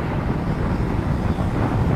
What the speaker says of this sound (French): Il y a un vent, mais c'est un truc de fou.